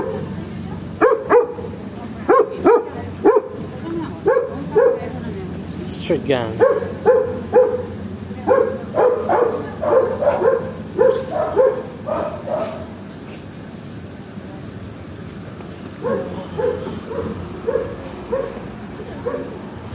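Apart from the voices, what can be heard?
street dogs barking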